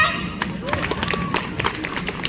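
Women clapping their hands during a playful group game, a handful of scattered, uneven claps close by, heard amid lively chatter and voices.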